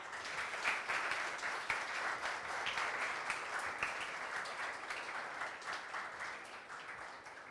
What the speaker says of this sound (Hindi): पहले अपने लिए जोरदार ताली बजाओ सारे।